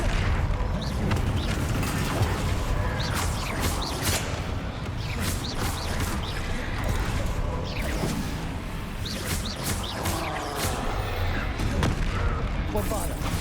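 Bombarda blasting spells in Hogwarts Legacy, a rapid string of booming explosions and crashing impacts layered over battle noise, with a voice shouting intermittently throughout.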